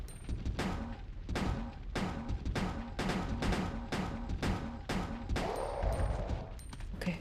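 Gunfire in the video game Resident Evil Code Veronica: a long, evenly spaced string of loud, punchy shots, roughly two per second, heard alone without speech.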